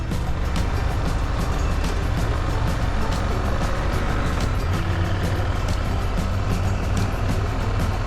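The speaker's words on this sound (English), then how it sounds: "Just cars everywhere." Dense road traffic of cars and trucks in Baja, Mexico, a loud, continuous engine and tire rumble from vehicles passing close by without pause.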